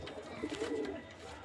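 Giribaj pigeons, a pure native breed kept for sale, coo in a soft, continuous warble close by, several low rolling calls overlapping without talk.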